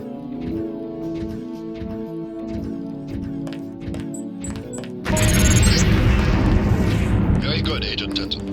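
A lamp bomb detonates in the Deus Ex demolitions training, a sudden loud blast with a crackling, roaring tail that cuts in after a stretch of talk and music.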